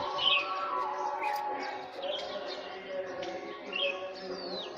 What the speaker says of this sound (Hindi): आपको चिड़ियों की चहचहाट भी आ रही होगी।